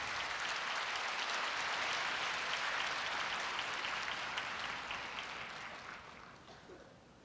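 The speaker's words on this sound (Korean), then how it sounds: "큰 박수 부탁드리겠습니다." Audience applause fills a hall at a Korea University entrance ceremony, a loud, dense round of clapping that gradually fades out toward the end.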